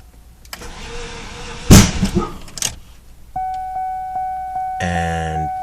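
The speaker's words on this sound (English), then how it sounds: "Okay, I'm gonna attempt to start the car." A 1998 Cadillac Deville that won't start is cranked: a loud burst of starter and engine noise, then a steady tone with rhythmic dinging pulses like a door chime, and a final harsh, buzzing mechanical rattle.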